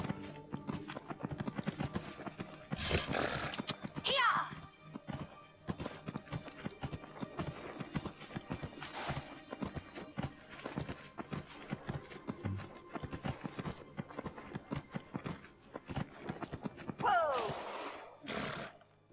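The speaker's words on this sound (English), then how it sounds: "Go, horsey." Horse in Dragon Age: Inquisition, gallop hoofbeats running steadily throughout with a couple of short whinnies, mixed with game music and ambience.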